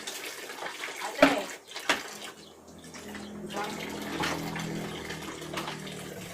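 Water poured over a toddler during a bath, two sharp splashing pours followed by steady running and gushing water, close by, with faint voices in the background.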